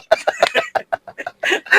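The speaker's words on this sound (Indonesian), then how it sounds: "Itu ada ayam lagi." A chicken clucks in a rapid run of short, close, fairly loud pulses, ending in a couple of longer, harsher notes.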